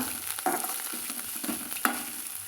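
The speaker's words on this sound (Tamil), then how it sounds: "இந்த அளவுக்கு புளியும் கூட சேர்த்து நம்ம வதக்கலாங்க" Tamarind sautéing in a pan, a soft steady sizzle with a few sharper stirring scrapes spaced through it, close and fairly quiet with no talk.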